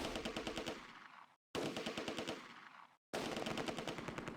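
A .30 caliber machine gun fires in the WWII strategy game Close Combat, loud sustained bursts of rapid rattling shots separated by two short silent gaps.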